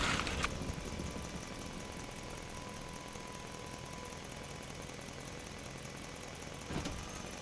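Tractor engine idling outdoors, a faint, steady low chugging hum held for several seconds with a brief knock near the start and end.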